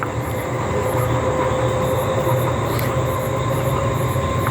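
A MEMU local train passes close by on Indian rails, a steady loud rumble and rolling noise with faint squealing, while the listener's own train stands halted; no talking.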